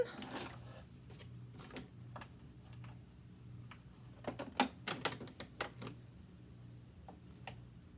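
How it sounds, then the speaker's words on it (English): A sewing machine takes a few back stitches to lock the seam on a mini quilt. Quiet mechanical ticking and clacking come in short bursts, with a cluster of sharper taps in the middle over a soft motor hum. "I'm just going to take a few back stitches just to lock it in"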